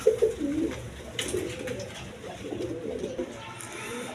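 Large Indian Kaldom pigeons for sale coo softly in low, rounded pulses near the start and again later, over a murky background hum.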